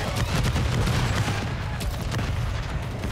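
Rapid, close automatic fire from the MCW submachine gun with its conversion kit in Call of Duty Modern Warfare III multiplayer, a dense stuttering burst that runs the whole moment with no talk over it.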